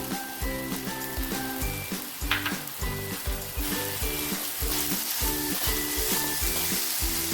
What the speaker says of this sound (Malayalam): തേങ്ങ ഒന്ന് ചെറുതായിട്ട് നെയ്മയത്തിൽ കിടന്ന് ഒന്ന് വെന്ത് വരണം ഇളക്കി കൊടുക്കാം